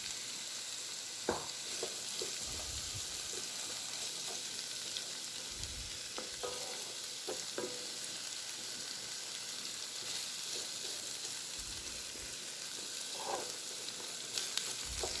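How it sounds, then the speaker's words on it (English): Peas, carrots and diced potatoes sauté in a pan with a soft, steady sizzle, broken now and then by brief clicks and scrapes of stirring. Close and fairly quiet, with no voices. "We're going to saute this for a few minutes."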